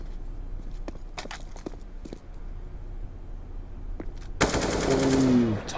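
Gunfire in CS:GO during a Navi vs Flipsid3 semi-final match: scattered footsteps and a few single shots, then a loud burst of rapid automatic fire near the end, with a commentator talking throughout.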